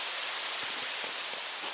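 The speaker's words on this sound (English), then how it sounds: "this Vermont rain is just dreadful" Steady rain falling outside in Bennington, Vermont, a continuous soft hiss heard from indoors with faint scattered drips.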